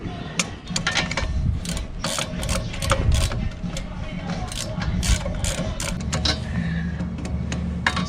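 A hand ratchet clicks steadily while tightening a size 13 brake caliper bolt on a Volvo during a brake pad job with electronic parking brake, the quick pawl clicks repeating close and continuous against a low mechanical hum.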